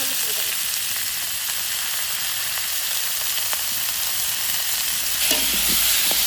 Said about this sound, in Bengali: হালকা করে কষে নিলাম